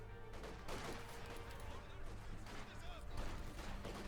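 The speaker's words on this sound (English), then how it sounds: "Shots being fired there, moving in to finish off the rest." Gunfire in a Company of Heroes 2 battle, Wehrmacht against Soviet forces: scattered shots and bursts over a dense rumbling battle bed, with a voice talking over it.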